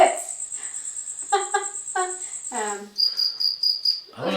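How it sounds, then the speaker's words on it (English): Cricket chirping played from a phone app: rapid, high, pulsing trills run through the whole stretch, with voices briefly heard underneath. "there is an app you can get that only plays cricket sounds"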